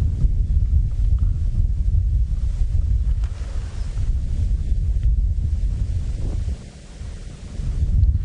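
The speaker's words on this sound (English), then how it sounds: "There's a breeze blowing." Steady wind rumbles and buffets against the microphone on a sunrise safari drive, with low gusty roaring that swells and eases throughout.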